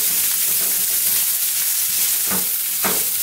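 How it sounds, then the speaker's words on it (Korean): Vegetables stir-fried in a generous amount of olive oil over medium heat make a loud, steady, hissing sizzle throughout, with a couple of brief stirring knocks. "일단 좀 볶아줍니다."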